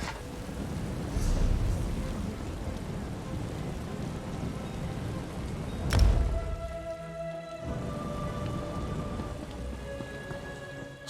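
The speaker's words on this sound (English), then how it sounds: "Man, it's always raining, isn't it? Always stormy out here." Steady rain pours in a stormy outdoor area in the video game Elder Scrolls Online, a dense constant hiss with a sharp crack near the middle, carrying on alone without speech.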